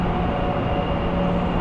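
A metro train at Pinheiros station, a deep underground stop in São Paulo, rumbles steadily and loudly with a constant low roar and a faint tonal whine, no voices.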